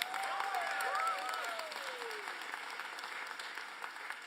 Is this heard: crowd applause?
yes